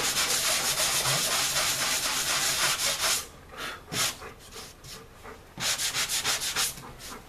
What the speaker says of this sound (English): What you want to do though is just don't sand it too much, just a little bit, just to get the high spots off